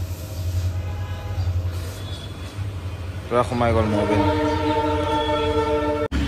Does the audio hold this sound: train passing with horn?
yes